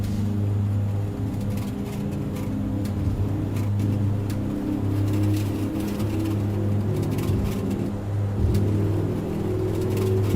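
Constant low droning hum of the FlyJSim Q400 turboprop engines held at takeoff power in X-Plane 12, a steady tonal roar with faint rumbling texture and no speech.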